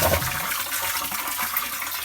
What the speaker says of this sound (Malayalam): ഇവിടെ പകുതി വെള്ളം വരും എന്നിട്ട് കുറച്ചു നേരം നിൽക്കും എന്നിട്ട് പിന്നെ വെള്ളം വരും